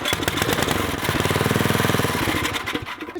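A small carbureted engine fires on starting fluid and runs with a rapid, rough chugging for about two and a half seconds, then sputters and dies. The engine is close and loud.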